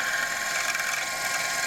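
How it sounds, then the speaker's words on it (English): A drill's belt drive squeals steadily while drilling a bearing support for a steampunk Stirling engine, a continuous high-pitched whine with a grinding machine hum beneath it, close and unbroken. "you're hearing the sound of my belt drive squealing"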